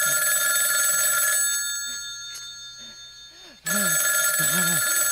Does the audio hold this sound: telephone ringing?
yes